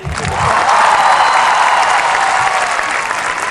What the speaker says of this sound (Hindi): सिर्फ आपको एक बार ताली बजानी है मेरे लिए